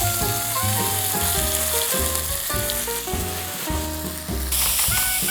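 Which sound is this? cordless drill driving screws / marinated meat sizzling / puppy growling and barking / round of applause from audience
marinated meat sizzling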